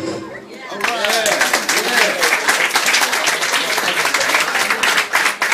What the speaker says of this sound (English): Let's hear it for Richard.